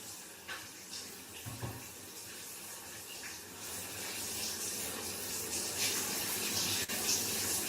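Hot water running steadily from a shower, a continuous broadband hiss and spray that builds slightly louder partway through, heard alone.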